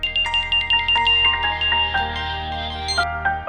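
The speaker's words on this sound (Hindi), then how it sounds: "नेहा से ही फोन करके पूछती हूँ।" A phone rings on an outgoing call in a Hindi TV serial scene, a loud repeating electronic ringtone pattern with short tonal bursts, no voices over it.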